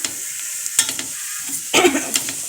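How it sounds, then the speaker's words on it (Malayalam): Papaya thoran with curry leaves being stirred in a pan, with a few brisk, close scraping and rustling strokes and a faint sizzle between them. "നമ്മളിനി നന്നായിട്ട് ഇളക്കി യോജിപ്പിച്ച് വെക്കണം"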